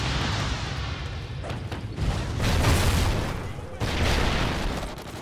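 A Trinity rocket killstreak strike in Call of Duty: Ghosts multiplayer, a steady roar of explosions and rumbling booms rising in waves, with gunfire and voices mixed in.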